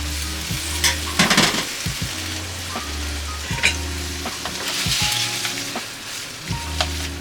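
Bolognese sauce sizzling in a pan as cooked pasta is tossed and stirred into it, with repeated scraping and clattering strokes over a steady frying hiss, close and fairly loud.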